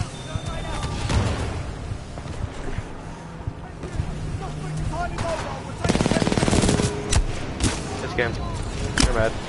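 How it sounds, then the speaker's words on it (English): Gunfire in Titanfall 2 aimed at the player, a rapid automatic burst crackling near the middle of the clip over a steady game ambience, with voices talking throughout. "Oh, they're shooting at me."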